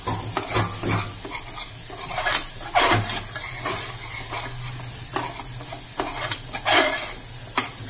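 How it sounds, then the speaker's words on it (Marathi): Tempering with half a spoon of turmeric stirred in a sizzling pan before ambadi greens go in, a close, continuous sizzle broken by regular spatula scrapes against the pan. "अर्धा चमचा हळद टाकून घेतली मी। पुन्हा छान हलवून घ्यायचं आपल्याला।"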